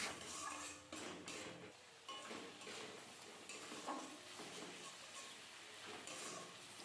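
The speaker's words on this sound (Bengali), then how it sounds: "সব কিছু কিন্তু খুব ভালো করে কষিয়ে নিচ্ছি আমি" A spice paste of cumin, coriander, turmeric and Kashmiri chili fries in a pan for a fish roe and potato curry, giving a faint, steady sizzle broken by repeated scraping strokes of a spoon against the pan.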